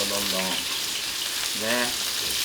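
Chicken wings sear in a pan with a steady, close sizzle and crackle, while a voice briefly talks over it twice.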